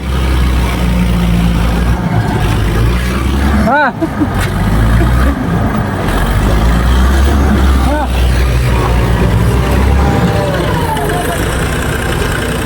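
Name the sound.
tractor engine revving, stuck in mud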